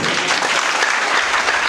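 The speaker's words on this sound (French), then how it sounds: "que je vous prie d'applaudir très fort" A crowd at a civic event in Congo-Brazzaville on promoting democracy and citizen values breaks into loud, continuous applause, steady and close throughout with no voices over it.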